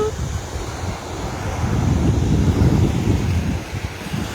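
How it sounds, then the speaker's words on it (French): Ocean waves break and wash onto a beach in a continuous, loud rushing surge, heavily mixed with buffeting wind noise on the microphone. "Voilà les vagues"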